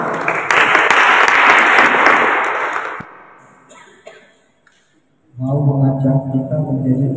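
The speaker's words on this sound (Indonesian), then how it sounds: "tepuk tangan buat semua" Applause from a church youth gathering at an HKBP congregation, loud dense clapping for about three seconds that fades away, then near silence, followed by a voice or music entering.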